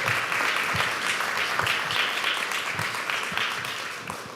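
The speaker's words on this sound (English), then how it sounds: "please clap." Audience clapping at a community summit, a roomful of hands applauding steadily and fairly close for a few seconds, fading slightly at the end.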